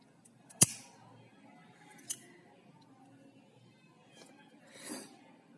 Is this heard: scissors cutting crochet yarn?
yes